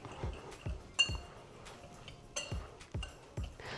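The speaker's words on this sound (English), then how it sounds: "And then just give that a whisk." A whisk stirs sugar and salt together in a bowl, giving off a scattered series of light, ringing clinks against the bowl's side, fairly quiet and close with no talking.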